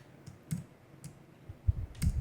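A computer keyboard clicks as shortcut keys are pressed during package design work, giving a few sparse, soft taps close by in a quiet room.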